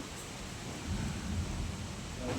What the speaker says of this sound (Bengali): আর এদিকে প্রচুর ঝড় শুরু হয়ে গেছে